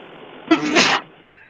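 A single loud, close sneeze bursts out sharply and trails off in about half a second, with quiet room tone before and after.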